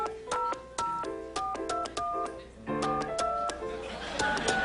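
Telephone keypad tones beep in a quick irregular series of short dual-tone presses, clear and close, as a number is dialed on a phone line, with a faint ringing buzz rising at the end.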